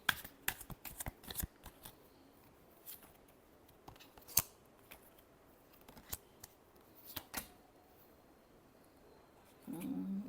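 Tarot cards are shuffled in short, crisp bursts of riffling and snapping, irregular and close, with quiet gaps between and a final denser shuffle at the end; no talking.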